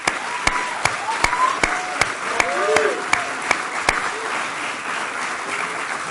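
A graduation crowd at a high school ceremony applauds steadily, with sharp, regular claps standing out close by over the dense clapping of many hands and a few faint voices.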